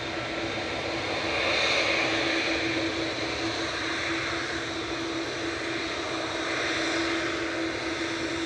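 Boeing 787 Dreamliner jet at Manchester Airport, a moderate, steady engine roar with a sustained whine, heard at a distance without talk over it.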